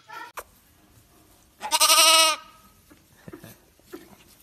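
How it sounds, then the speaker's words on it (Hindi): One loud, wavering sheep bleat rings out clearly in the middle, with a short faint call just before it and quiet background sounds after. "सीप मीन्स भेड़।"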